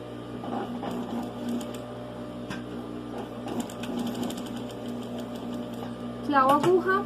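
Sewing machine stitching a side pocket on a garment, a steady fast mechanical whir with brief pauses and a louder burst near the end, while someone speaks Spanish over it.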